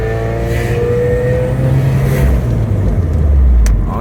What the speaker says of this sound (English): Oh yeah, there's some spoolage going on.